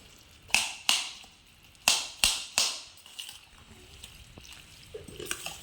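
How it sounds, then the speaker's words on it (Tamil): Watery curd rice is stirred with a spoon, making a series of sharp, wet slaps and squelches in an irregular rhythm, several loud hits close by followed by softer scraping and sticky sounds. "தயிர் சாதம் இந்த மாதிரி கிளறி பாருங்கள் ஃப்ரெண்ட்ஸ்"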